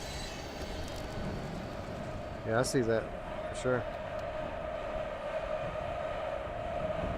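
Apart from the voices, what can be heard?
train car rolling in the video game Here They Lie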